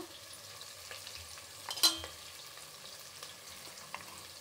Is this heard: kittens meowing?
no